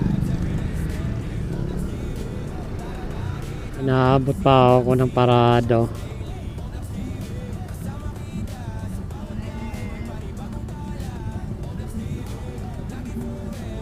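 Steady road traffic near SM Fairview hums along, with cars passing at a moderate distance. Someone speaks briefly partway through over the continuous background rumble.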